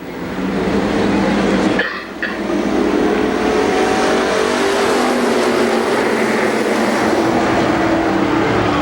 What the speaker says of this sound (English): Eight laps to go, the street stock third heat race.